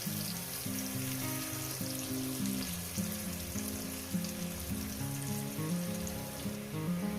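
Large pieces of onion fry in oil for a young goat and potato curry, producing a steady soft sizzle throughout, accompanied by melodic background music.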